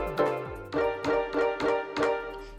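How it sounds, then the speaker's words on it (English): Two string samples loaded onto a Korg Drumlogue and triggered from a plugged-in MIDI keyboard, giving hip-hop style string stabs: five sustained, harmonically rich chord hits in an even rhythm, moderately loud with no talking. "So I loaded 2 string samples onto the Drumlogue,"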